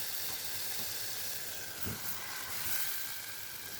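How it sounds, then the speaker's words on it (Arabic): Vinegar poured onto garlic fried until golden in a hot pan gives a steady, loud hiss and sizzle throughout, with a brief burst partway through. "اول ما تاخد اللون الذهبي هتشها بالخل على طول"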